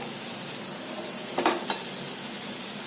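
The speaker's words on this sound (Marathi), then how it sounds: "चिरून घेतलेलं पालकाची देठ घालायचं आहे सर्व मिश्रण छान एकत्र करायचं" Chopped spinach stems being stirred into a mixture frying in oil give a steady close hiss of sizzling, with a brief clatter of the spoon against the pan partway through.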